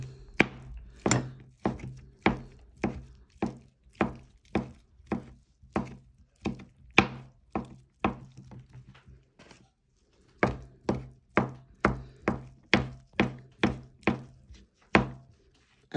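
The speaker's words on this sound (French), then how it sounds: "moi je vais y hacher menu avec mon éminceur" Vegetables for stuffing chopped finely with a mincing knife on a board, a steady run of sharp close knocks, a brief pause midway, then another quick series of chops, with no voices.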